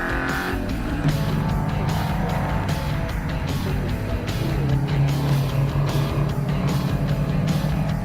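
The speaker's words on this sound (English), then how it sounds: "There's Barry Butwell in the second of the Max Superliners, currently running in position 4" Max Superliners racing trucks and other heavy race trucks at a Supertruck Nationals round roar steadily around the racetrack, a dense continuous engine drone with shifting pitch and no speech.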